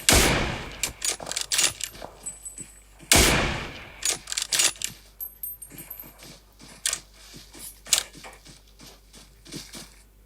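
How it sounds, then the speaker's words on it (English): Bursts of gunfire in a PUBG duo scrim match, with loud close volleys near the start and around three seconds, then a steady patter of quieter, more distant shots and rapid fire continuing to the end, no voices. "we are now back with Riot, Kitten and Panda, who have sights on Team 10 but are now being fired upon by Juicy and Little Vlad from 245."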